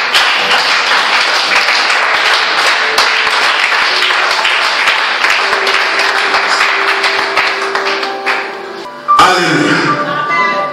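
A church congregation applauds loudly and continuously, the dense clapping mixed with voices, briefly dipping near the end before resuming strongly.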